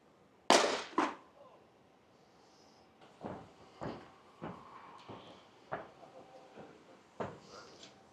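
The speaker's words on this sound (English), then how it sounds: "So I'm going to be dropping this Ohme Home Pro down there." An Ohme Home Pro EV charger dropped from a height lands with a loud, sharp double bang, followed by several fainter knocks and rattles spaced out over the next few seconds.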